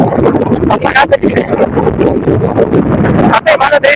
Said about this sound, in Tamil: ஏன்னா இந்த காற்று ரொம்ப காற்று